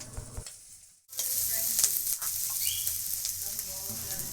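Green chili and ginger paste is stirred in a hot pan: after a brief quiet moment, a loud, dense sizzle erupts and carries on, with scraping and faint crackling from the stirring.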